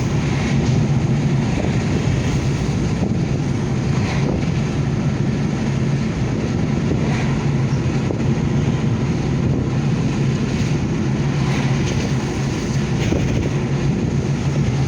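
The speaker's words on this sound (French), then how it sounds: "Et sacré coup de vent, hein." A strong, sustained gust of wind roars across the microphone outdoors on a drive around Réunion island, a loud, unbroken rumble that persists without letup.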